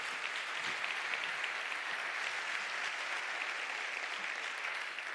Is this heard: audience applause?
yes